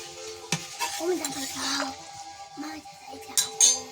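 Water poured into a pan of frying jackfruit curry in a home kitchen, sizzling strongly with clinks of a spoon against the pot, short scraping stirs and a few sharp metallic taps near the end.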